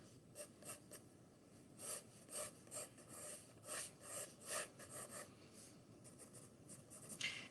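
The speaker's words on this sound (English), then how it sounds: "So I'm going to draw my line again." Pencil drawing a guide line for a portrait on paper, heard as soft, close rasping strokes in a steady series of short pulses, with no talking.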